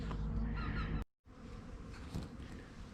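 Bees buzz in a dense, continuous drone, briefly cut by a moment of silence before the humming swarm resumes.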